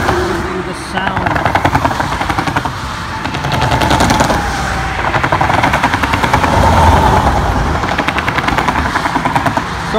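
Vehicle tires roll over orange rumble strips on a highway, producing a rapid, buzzing drum of thumps that swells and fades in waves over steady road and engine noise, heard from inside the car.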